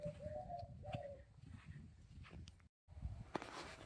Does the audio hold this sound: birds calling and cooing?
yes